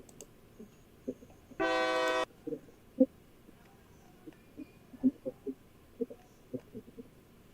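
A Roblox train locomotive on the California Northern line sounds one short, loud horn blast of about half a second. Soft clicks, clunks and low rumble follow, with no voices.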